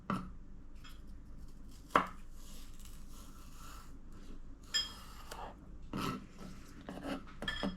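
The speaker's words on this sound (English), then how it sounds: "chop in a small chunk like this" A kitchen knife chops boiled potato into small chunks for potato salad, giving faint, irregular dull taps and scrapes on a cutting board, with a few sharper knocks scattered through.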